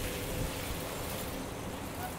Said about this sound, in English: Ooh, big wind gust.